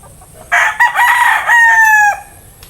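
A gray Talisain brood stag rooster crows once, loud and close, a long harmonic call that rises then holds steady before cutting off, with a brief sharp note midway and no talk.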